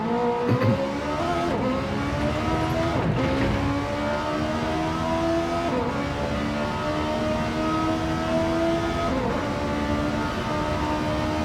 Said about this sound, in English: Absolutely screaming is that Ferrari F430.